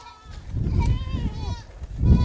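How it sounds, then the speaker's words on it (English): Nanny goats bleating close by, several wavering cries overlapping across the stretch with a low rumble of movement or background noise beneath them. "Those 55 goats grazing across about 50 acres here at his friend's property"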